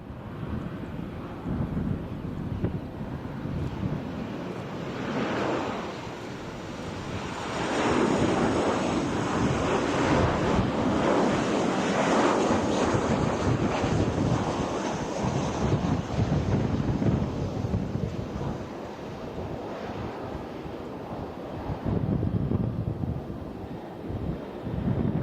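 Strong wind buffets the microphone on an airport observation deck at Kansai International Airport, with the roar of landing airliners swelling and fading beneath the continuous gusty noise.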